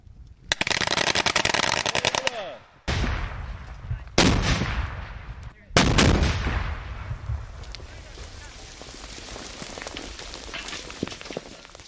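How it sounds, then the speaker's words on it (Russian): Automatic weapons fire and explosive devices set off with smoke charges during a military exercise repelling saboteurs: a sustained rapid burst of loud gunfire, then several heavy blasts each trailing into rumbling echoes and crackle. "было использовано не только автоматическое оружие, но и дымовые шашки и взрывные устройства."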